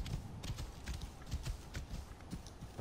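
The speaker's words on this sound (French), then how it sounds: "Ah non, ça c'est mon cheval." Horse hooves clip-clop at a steady trotting rhythm in Assassin's Creed Origins, soft and fairly faint against a low ambient backdrop.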